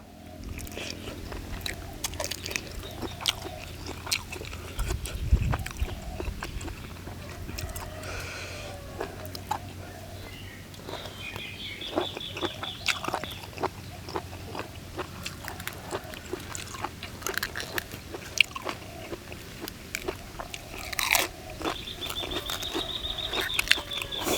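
Crispy grilled squid tentacles are bitten and chewed up close, with repeated sharp crunches and wet clicks over a quiet background, interrupted by occasional small rustles.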